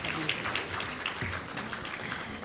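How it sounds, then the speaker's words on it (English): Applause from a school annual day and graduation ceremony crowd, a steady wash of clapping held at an even level throughout. "Please welcome her with a very big round of applause."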